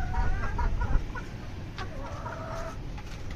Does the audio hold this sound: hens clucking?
yes